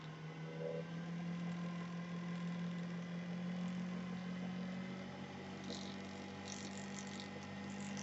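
A wood lathe spins a wine cork at high speed, giving a steady, even motor drone with a faint vibrating rumble that holds unchanged throughout, close by and with no voices.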